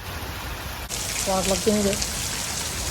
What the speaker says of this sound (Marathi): तर काय आता खूपच जोरात पाऊस आलेला आहे